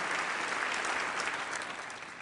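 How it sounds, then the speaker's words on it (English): Audience applause welcoming a woman to the stage at a game show, steady dense clapping throughout the short stretch, fairly loud and without talk. "Everyone give her a round of applause."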